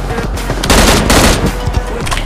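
An M16 rifle fires in PUBG on the Erangel map, a loud, dense burst of rapid automatic gunfire that rolls on for about two seconds with a heavy low boom underneath.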